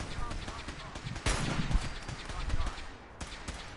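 Rapid shots from a King sniper rifle with a 50-round magazine in modded Fallout 4 against raiders, a sharp loud crack followed by a string of quick lighter pops and a second shot near the end, with someone talking throughout.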